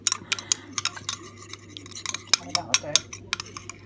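A Dijon, lemon juice and cider vinegar glaze sweetened with a spoonful of syrup is stirred briskly, giving a run of sharp, close clinks and taps of utensil against dish at an uneven rhythm.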